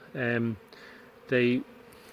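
Two loud, close bursts of insect buzzing, each about half a second long, separated by a short pause of quieter background hum.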